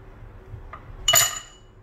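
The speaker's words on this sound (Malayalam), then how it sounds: "ഇനി നമുക്കൊരു ഗ്ലാസ്സിൽ രണ്ട് ഐസ് ക്യൂബ്സ് ഇടാം." Ice cubes dropping into a drinking glass for homemade lemonade: a soft early tap, then one bright, ringing clink that fades over about half a second, close and alone in a quiet room.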